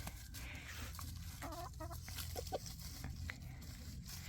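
A big, gentle naked neck rooster clucks softly in a backyard chicken pen, with several short, quiet clucks spread over steady low background noise.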